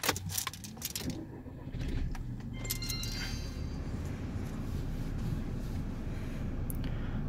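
Keys jangle before a VW Golf MK6 1.4 TSI 122 hp petrol engine with DSG gearbox cranks and catches on a cold start, then settles into a steady, fairly loud fast idle heard close up.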